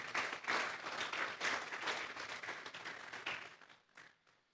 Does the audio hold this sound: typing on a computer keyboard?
no